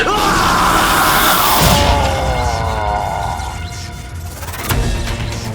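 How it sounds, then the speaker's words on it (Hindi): Loud, anguished bellowing cries of pain from a character in a fantasy action series, rising and falling over about five seconds against a dense, roaring dramatic background, with a sharp crash-like burst near the end. "ये चीखें सुनाई दे रही हैं।"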